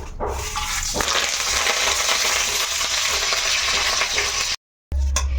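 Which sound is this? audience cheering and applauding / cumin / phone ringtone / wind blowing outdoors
cumin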